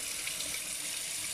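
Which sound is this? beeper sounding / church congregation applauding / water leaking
water leaking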